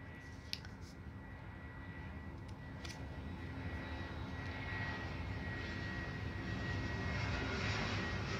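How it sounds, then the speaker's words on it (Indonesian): A fixed-wing airplane rumbles overhead as a steady, low, broad drone that swells slightly louder toward the end, faint and distant, with a couple of small clicks nearby and no talk. "ada pesawat lewat ya"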